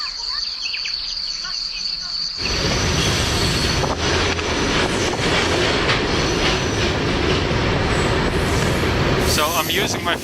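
Freight train rolling on rails through Siberia, a steady loud rumble and rattle of the wagons with clickety-clack, starting abruptly after a quiet opening with insect chirps, then continuing unbroken.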